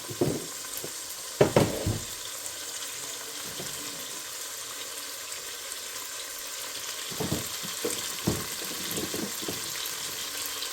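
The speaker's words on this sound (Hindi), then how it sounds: "अब इसको इतना भूनना है ताकि जो मसाले हैं शामिल हो जाए" Whole spices with cinnamon and a little dried chili fry in a pan for green onion chickpea pulao. A steady, close sizzle runs throughout, with a few sharp spoon scrapes and stirs, and no one speaks.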